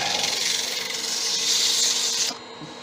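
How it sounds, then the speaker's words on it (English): A wooden snowman being sanded with 120 grit sandpaper, a steady close-up raspy rubbing hiss that swells slightly in the middle, then stops abruptly, leaving a faint hum; no voices. "And sand it. 120. I normally start sanding at 120."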